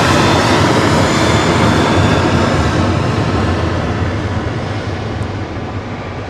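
A heavy jet airliner roars past at Manchester Airport, a loud, dense engine rumble that fills the clip and eases off slightly toward the end, with no voices.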